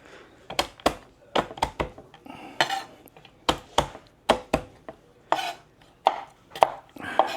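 Cashew nuts being chopped by knife on a cutting board in a home kitchen, a steady run of sharp, close thunks in uneven bursts with brief pauses between strokes.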